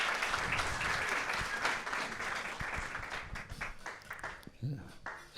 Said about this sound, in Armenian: Եկեք ծափարենք բարձր։